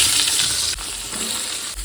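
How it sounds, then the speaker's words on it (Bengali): Steady crackling sizzle of eggplant slices frying in hot oil, close and continuous, with a couple of faint clinks. "বেগুনগুলো এবারে ভেজে নেব"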